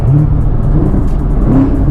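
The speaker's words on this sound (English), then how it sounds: "See, I just did 3 downshifts like nothing." A McLaren sports car's engine rises and falls in pitch as the driver makes quick downshifts, a loud, close and steady mechanical roar.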